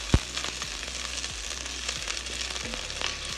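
Garlic, green chilli and onion frying in oil for a coconut milk curry: a close, even sizzle dotted with small crackles and one sharp knock near the start, with no voices.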